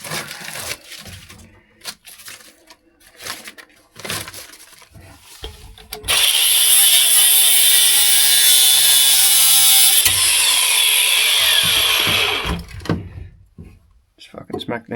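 A power tool trims car parts during a VL Commodore build, loud and steady for about six seconds, with scraping and knocking around it and someone talking before and after.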